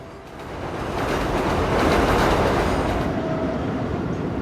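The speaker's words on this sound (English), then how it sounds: "We have Amtrak right here." Amtrak train rumbling past on an elevated rail line in a residential Astoria, Queens neighborhood: a loud, steady roar swelling over the first second and holding broad and close, with faint clickety wheel texture and no talking.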